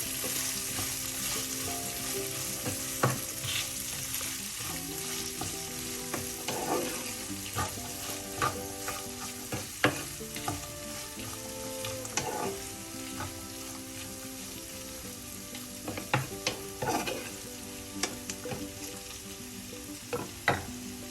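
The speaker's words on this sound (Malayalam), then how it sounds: "അമരപ്പയർ ചേർത്ത് നന്നായി മിക്സ് ചെയ്യാം" Snow peas stir-fried in a pan for a thoren dish, giving a steady sizzle with repeated scraping and clinking of a stirring utensil at irregular intervals.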